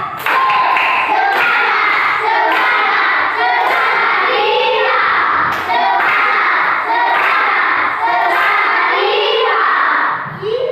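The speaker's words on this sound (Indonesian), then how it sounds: "Coba tepuk semangat dulu. Tepuk semangat." Schoolchildren in a classroom do a rhythmic cheer clap, with quick, even bursts of hand claps repeating close and loud while the children's voices chant and shout along throughout.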